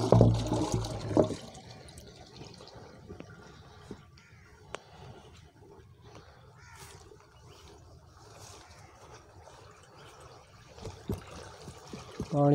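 Irrigation water flowing into a berseem field, a steady soft trickling and gurgling with a louder splash at the start, heard close and without talk.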